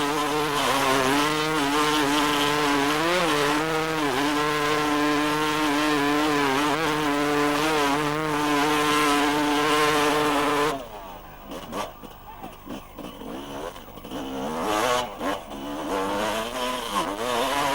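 Motorcycle engine revving hard under steady throttle through a muddy bog at a 1995 classic enduro, a loud, sustained droning roar that cuts off abruptly partway and then returns in choppy, uneven bursts.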